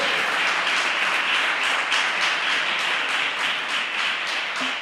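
A church congregation applauds during a sermon, dense steady clapping from many hands filling the room at a loud, even level throughout.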